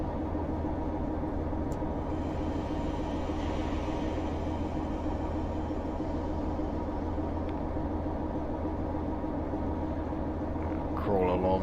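A Class 47/8 diesel locomotive in the Train Simulator video game crawls along a platform with a steady low engine drone and rail rumble, while a voice talks over it.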